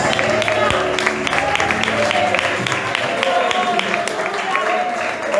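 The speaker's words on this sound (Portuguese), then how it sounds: "Aplauda o Senhor Jesus." Church congregation applauding during a Holy Spirit worship service, a dense crowd of clapping with voices calling out over it, loud and sustained.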